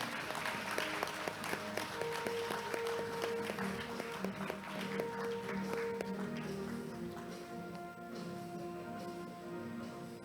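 Audience members at a Korean Accounting Association conference opening ceremony applaud an award recipient, with steady, moderately distant clapping running for about ten seconds over a faint sustained tonal background.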